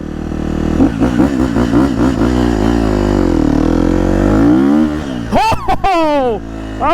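Motorcycle engine revved hard on the throttle, several quick blips then a sustained rising pull, loud and close, followed by excited shouting.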